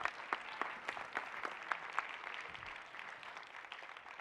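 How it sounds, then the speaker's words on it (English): An audience claps after the final pitch at the Visa Everywhere Initiative 2023 Global Finals, a moderate round of scattered hand claps with distinct individual slaps that thins out toward the end. "big round of applause"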